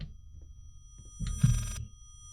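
An old-fashioned telephone rings once in the horror video game Layers of Fear, a short bright burst of bell tone in the middle of quiet, low ambient rumble.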